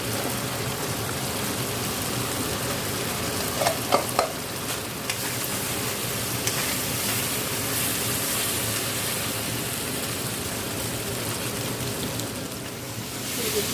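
Fried potatoes stirred into a red chilli powder masala in a pan for Bengali doka curry, a steady close scraping and sizzling that runs the whole time with a few sharper clinks near the start and no talk.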